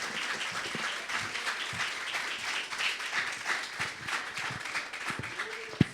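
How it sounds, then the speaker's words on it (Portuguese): A church congregation applauds at an evangelism service, steady close clapping from many hands throughout, with a few voices and a sharp knock near the end. "Uma salva de palmas bem forte"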